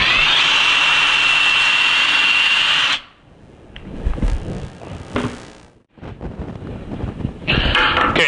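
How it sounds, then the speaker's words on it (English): A cordless drill fitted with a 1/8 inch bit bores a pilot hole in wood for a wall shelf, running loud and steady for about three seconds, then giving way to rougher, intermittent grinding and scraping bursts as the bit works through. "we're going to use that hole as that point as a reference to drill the pilot hole"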